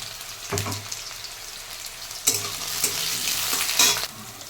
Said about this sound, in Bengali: এবার আলুটা একটু নুন হলুদ দিয়ে ভেজে নিই